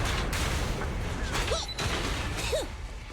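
Explosions rumble in the video game Zenless Zone Zero, a dense low roar with sharper bursts and brief high electronic chirps layered on top.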